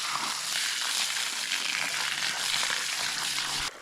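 Reddish, oxidized water runs steadily from a tap at an Alaskan cabin homestead, a continuous broadband rushing gush held close and loud for several seconds before cutting off abruptly at the end.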